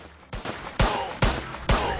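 Small gun firing at aliens in a Motu Patlu video game, four sharp, loud shots spaced about half a second apart, each with a short ringing tail.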